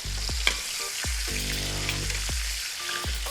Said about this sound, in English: start basting the top of the steak. Let that butter get in there.